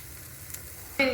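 Chicken joints roasting over hot charcoal under a lid, a steady low crackling hiss that swells into a louder sizzle near the end, with no talking.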